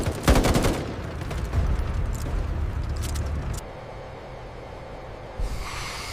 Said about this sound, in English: Donk and Billy Bob can hear the gunshots and explosions in the background of Coke's transmission.